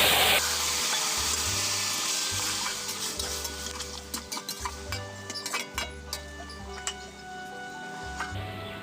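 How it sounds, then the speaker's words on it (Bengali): Vegetables poured into a hot pan for a Bengali niramish dish with bori, a loud sizzle at first, then repeated rhythmic scraping and stirring with clinks of the spatula against the pan. "এবার সবজিটাকে ঢেলে দিচ্ছি।"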